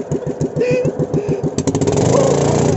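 A small fishing boat engine chugs with a rapid, rhythmic putter close by, then settles into a denser, steady running drone.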